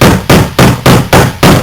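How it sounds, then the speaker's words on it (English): A small hammer taps a rivet down on a strap eye installation, six sharp, loud metallic knocks at an even, steady rhythm, close up with nothing else heard. "just tap it down with a hammer. Not a big hammer, a little hammer"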